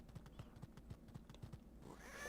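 Faint, steady horse hoofbeats clip-clop in a fast galloping rhythm in a Sega Genesis video game, then give way to a brighter, sustained sound at the end, with no talking.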